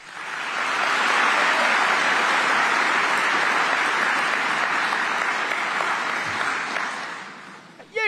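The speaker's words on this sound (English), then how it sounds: "You retarded pricks will clap at just about anything" Sustained, dense audience applause swells quickly and holds steady for around seven seconds before tapering off at the end.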